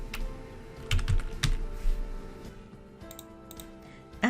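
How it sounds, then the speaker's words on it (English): Computer keyboard typing in uneven bursts of soft key clicks, close and moderately quiet, with brief pauses between runs and no voices. "Press the Tab key on your keyboard to indent your first paragraph and start typing your essay."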